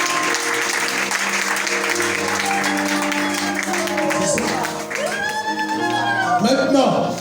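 A church congregation applauds to acclaim the Lord, with dense, steady clapping filling the room and voices rising over it toward the end.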